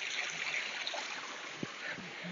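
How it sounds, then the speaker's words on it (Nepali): A small mountain stream on a trekking trail toward Ghorepani, Nepal, gives a steady, close rushing and gurgling wash with no one talking. "अगाडि सानो खोला रहेछ"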